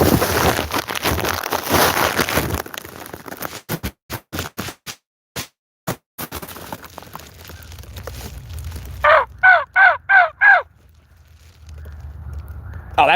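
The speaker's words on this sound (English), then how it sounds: "They're just messing with the siren." A police car siren being toyed with outdoors: a quick series of five short, loud, sweeping whoops in a row, each rising and falling, following a stretch of scattered clatter and background noise.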